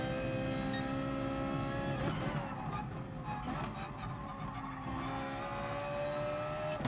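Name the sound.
Ferrari 488 engine revving, GT Sport video game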